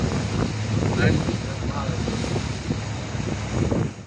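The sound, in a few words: abra boat ride at night in old Dubai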